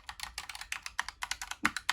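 Quick, crisp clicking keystrokes on a small mechanical computer keyboard, typed in an uneven rapid rhythm close to the mic with no talking.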